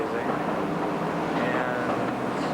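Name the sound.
Paris Metro underground train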